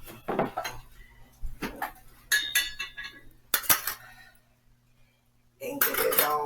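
Utensil knocks and clinks against a bowl while salt is stirred into a mixture, a few sharp bursts separated by pauses, close and moderately loud, with brief talk mixed in.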